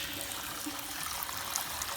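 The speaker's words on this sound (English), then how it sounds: "If I dump some water on the roof, I can show you how the water collection system works." Water dumped on a roof runs down into a gutter feeding a rain barrel collection system, giving a steady close trickle and gurgle with no voices.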